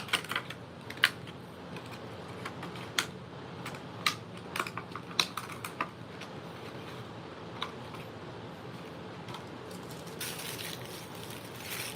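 Paper is crumpled while wax tablets are packed as gifts, giving irregular, close crackles and crinkles over a steady background hiss.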